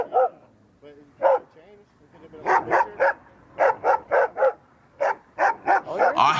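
Two dogs barking in repeated sharp bursts, some clustered in quick runs of three or four barks, loud and close, with a few whimpering yips in between and people talking faintly around them.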